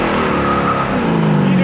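Big-block V8 in a 1966 Chevrolet Chevelle pulls away under acceleration, a loud, dense engine roar rising steadily in pitch and filling the whole moment.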